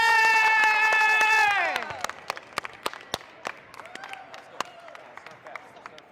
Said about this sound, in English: Better get the claps going before starting lineup